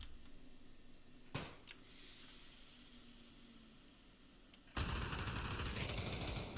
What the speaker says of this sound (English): Shots go off.